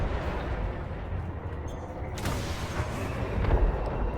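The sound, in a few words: missiles fired at a ship in video game Elite Dangerous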